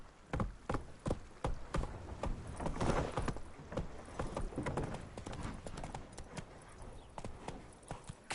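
Horse hooves clip-clop in a brisk, uneven gallop rhythm in The Witcher 3, close and loud, with no speech over them.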